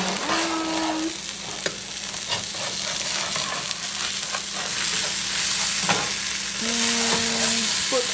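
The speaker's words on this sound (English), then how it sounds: "Ooh, that sizzle. That sizzle." Food frying in a pan gives a steady close sizzle with light crackle and occasional stirring scrapes, continuing alone without talk.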